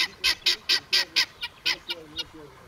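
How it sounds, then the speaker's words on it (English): A rapid series of about a dozen nasal honking calls from ducks or geese, close and fairly loud, evenly paced at first, then weaker and more irregular toward the end. "These are my other friends, birds."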